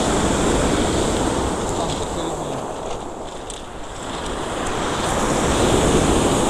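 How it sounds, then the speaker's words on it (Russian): Sea waves break and wash on the coast at Simeiz, Crimea, in a continuous loud roar of surf, swelling and easing slightly, with wind blowing throughout. "Нифига волны."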